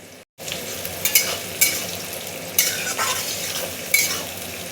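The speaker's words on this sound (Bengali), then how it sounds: "এখানে মুগ ডাল, গাজর আর বিনসটা ভাজা হচ্ছে" Moong dal, carrots and beans fry in oil with a steady loud sizzle, broken by several scraping stirs of a spoon against the pan.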